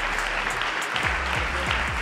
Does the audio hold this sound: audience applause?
yes